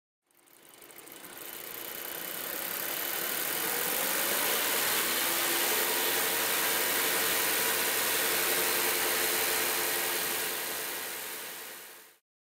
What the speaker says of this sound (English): The engine is running in the stoichiometric range.